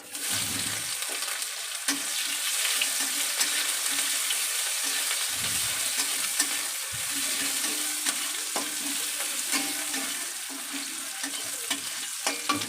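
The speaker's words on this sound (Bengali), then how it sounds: "নাড়া দিয়ে পেঁয়াজটাকে ভালোভাবে ভেজে নেব" Chopped onions fry and get stirred in a pan with dried red chillies for a Bengali egg curry, a steady close sizzle broken by scraping stirs, with no talking.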